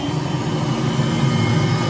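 A Boeing 747 jet engine spooling up in a home cockpit simulator, a steady loud low rumble with a constant whine on top and no pauses, alone without voices.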